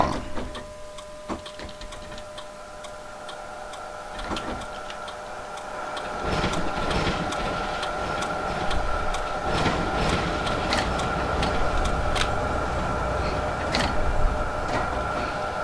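A tram's turn indicator ticks in a steady even rhythm in the LOTUS tram simulator game, then the tram's motor hum swells as it pulls away from the stop, the clicking continuing over the rising drive noise.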